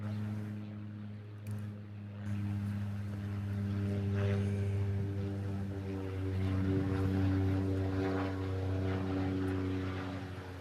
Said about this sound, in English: this is Japan Airlines. It's a 7-6. It's heading back to Tokyo.